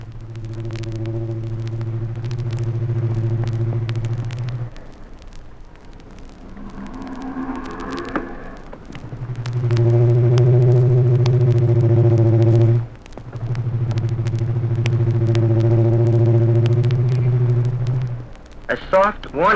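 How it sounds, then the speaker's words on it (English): A contented Indian elephant makes low, deep, resonant rumbles from the base of the trunk, several long sustained tones that are loud and close, with a brief higher call between them. "Low, deep rumblings at the base of the trunk express contentment."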